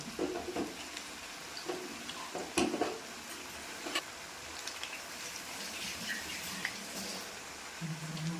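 Jackfruit-stalk bajji in batter sizzles steadily in hot oil, a soft continuous crackle with occasional utensil clinks, fairly quiet and without talk.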